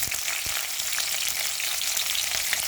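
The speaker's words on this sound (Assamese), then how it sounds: "তেলখিনি গৰম হোৱাত ইয়াত কাটি থৈ দিয়া পিঁয়াজখিনি দি দিছে।" Chopped onions frying in hot mustard oil in a pan, a dense, bright, close sizzle that holds steady throughout with faint crackles and light stirring, no talking.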